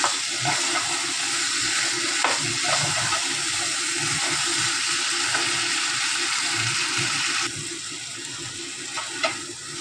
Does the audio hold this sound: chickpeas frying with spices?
yes